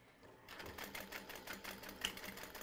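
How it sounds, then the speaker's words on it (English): A sewing machine stitches fabric for a portable gaming console case, running as a steady close rapid whir with a faint rhythmic clatter after a brief quiet start. "continue sewing once you are done squishing"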